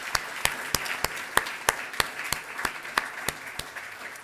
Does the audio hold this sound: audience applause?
yes